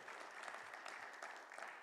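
Audience applause at a Martin Luther King Jr. Day celebration at Clemson, steady and dense across the whole short stretch, evenly sustained without breaks.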